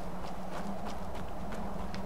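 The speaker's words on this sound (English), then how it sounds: "Crazy little horse." Horse hooves in Skyrim on a water-locked island, a fast, even clip-clop patter under a steady background hum, moderately close and continuous throughout.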